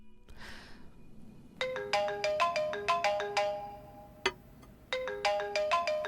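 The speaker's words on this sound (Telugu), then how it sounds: "ఇంటి నుంచి ఫోన్ వస్తోంది." A mobile phone rings with an incoming call, its bright electronic ringtone repeating a quick melodic phrase loud and close, pausing briefly before starting again, with no voices over it.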